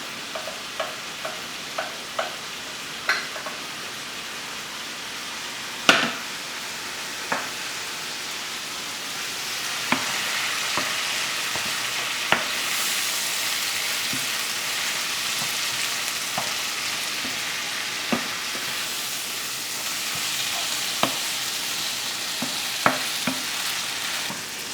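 Rice beetroot noodles stir-fry in a pan, a steady close sizzle broken by repeated clicks and scrapes of a utensil stirring at irregular intervals throughout.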